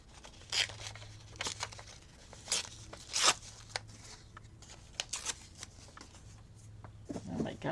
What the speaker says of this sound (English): I want to rip this straight edge off